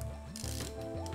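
Hand-cranking a 35mm movie camera counterclockwise gives a steady run of close, crisp ratchet-and-pawl clicks with gear whirring, repeating in a regular winding rhythm and heard alone.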